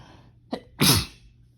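A single human sneeze, a short sharp inhale followed by one loud, close burst, then quiet.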